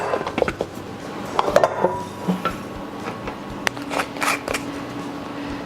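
Almonds rattling and clattering into a big mixing bowl, a run of crisp close taps and scatters in short bursts with no talking.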